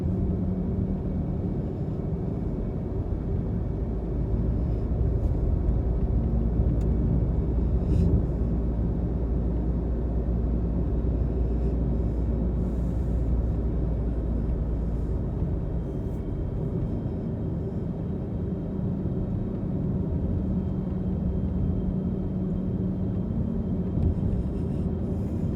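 A car drives along a road toward a dead end, its steady low engine and tyre rumble continuous and close throughout, with no speech over it.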